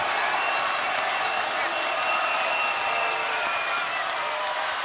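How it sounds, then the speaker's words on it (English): A packed basketball arena crowd roars and applauds continuously during a college game between Florida Atlantic and Charleston, a dense, steady wall of cheering with a broadcast commentator talking over it. "This crowd is deafening."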